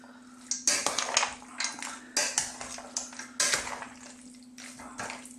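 Chicken pasta salad being tossed with dressing in a bowl, with a series of clattering utensil-on-bowl scrapes and clinks in irregular bursts, close and moderately loud, no talking.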